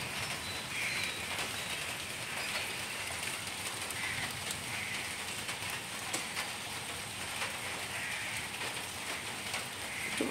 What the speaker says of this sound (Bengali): দেখো সারা বৃষ্টি হচ্ছে।